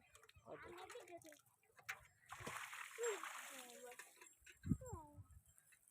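Cold water splashes and sloshes as hands are washed at a village temple, heard as intermittent wet splatters. People talk over the water, and their voices are close and prominent.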